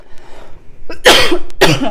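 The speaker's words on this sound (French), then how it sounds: "J'ai envie de tousser." Two loud, harsh coughs close to the listener, separated by a brief pause, with a faint breath before them.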